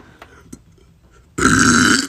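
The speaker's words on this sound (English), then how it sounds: "Sorry, I had to burp." One loud, drawn-out burp close to the mic after a quiet pause with faint background noise, lasting under a second.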